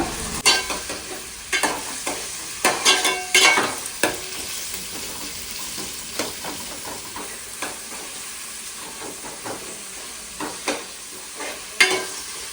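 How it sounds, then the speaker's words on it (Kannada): Three medium onions fry in hot oil for a homemade chicken curry, giving a loud steady sizzle with repeated scraping and stirring knocks from a spatula throughout, close and without talk. "ಇದು ಮೀಡಿಯಂ ಸೈಜ್ದು 3 ಈರುಳ್ಳಿ ಹಾಕಿದ್ದೇನೆ. ಈಗ ಫ್ರೈ ಮಾಡುವ"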